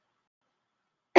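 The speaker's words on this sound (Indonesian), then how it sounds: "maaf, batuk." After a stretch of near silence, a teacher gives one sharp, close cough right at the end of the clip.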